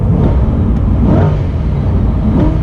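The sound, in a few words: mid-engine C8 Corvette revving in neutral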